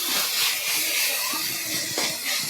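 Vegetables for kurma sauté in a hot pan, giving a continuous close hissing sizzle with soft fluctuating crackles throughout, no talking.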